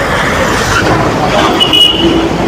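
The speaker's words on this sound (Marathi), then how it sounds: "बघा गाड्या चालू झाल्या बघा" Dense Mumbai traffic beginning to roll, a loud continuous roadway rumble of buses, cars and trucks close by, with a brief horn toot in the middle and faint voices underneath.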